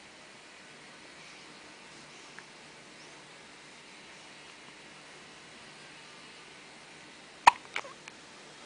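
A baby hiccups once sharply near the end, with a faint earlier catch, against a quiet room hiss.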